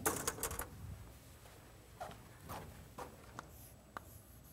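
Chalk or marker writing on a board during a math lesson, heard as faint scratchy strokes and taps spread over a few seconds in a quiet room, with no talk.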